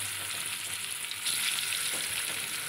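Shol fish sizzling as it fries in hot mustard oil in a pan, a steady close crackle and hiss that swells slightly partway through, with no talking.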